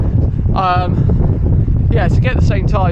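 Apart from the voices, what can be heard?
wind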